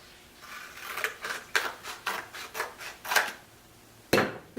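Repeated cutting strokes trimming a piece for a medieval close helmet modification, about nine rasping cuts in a steady rhythm, close and moderately loud, ending with one sharper snip.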